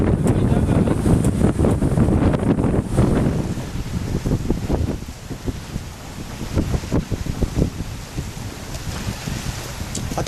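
Strong wind in Montenegro buffets the microphone in loud, rough gusts, easing slightly midway but continuing to roar and flutter throughout.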